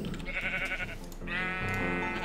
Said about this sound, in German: da ist ein Schaf